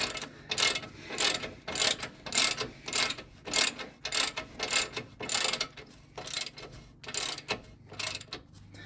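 A hand ratchet tightens rear suspension bolts on a 2006–2010 Ford Explorer, producing a rhythmic series of close clicking bursts, about fifteen strokes in a steady back-and-forth pattern, with no talking.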